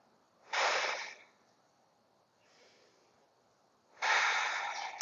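Deep breaths drawn and released during a yoga session: a strong close inhale, a faint softer breath in the middle, then another loud breath, with no talking.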